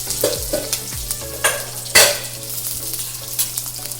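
Small onions sauté with crab curry masala in a pan for a spicy crab roast, sizzling steadily while a spoon scrapes and stirs in several close, distinct strokes.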